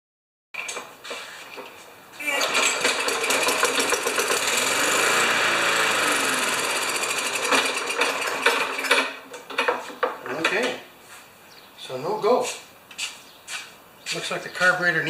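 A Murray lawn mower's Briggs & Stratton engine, long abandoned and suspected of a bad carburetor diaphragm, fires and runs loudly for several seconds with a rattling, clattering roar before sputtering out into intermittent bursts and handling noise.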